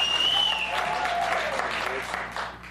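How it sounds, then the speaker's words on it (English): Light, scattered applause at a celebrity poker tournament table, a short patter of clapping that fades out over a few seconds beneath a commentator's voice. "A smattering of applause."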